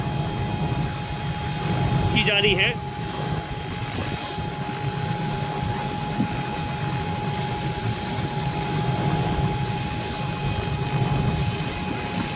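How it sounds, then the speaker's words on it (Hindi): A helicopter carrying a bride and groom at a wedding procession in Barmer drones steadily throughout, a continuous engine and rotor roar with crowd noise, and a voice speaks briefly near the start. "दूल्हा और दुल्हन को हेलीकॉप्टर से नीचे उतारने की तैयारी"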